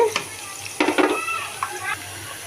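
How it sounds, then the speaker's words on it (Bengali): Onion and garlic frying in oil in a wok, with a soft sizzle broken by a few louder bursts of stirring and scraping, close and moderately loud. "পেঁয়াজ রসুন দেখো ভাজা হয়ে গেছে"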